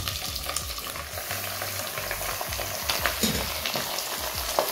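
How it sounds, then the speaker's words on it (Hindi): Half a kilo of mutton liver frying with onions in a pan, a close, continuous sizzle broken by repeated scraping stirs and crackles throughout. "और इसको अच्छे से फ्राई करेंगे।"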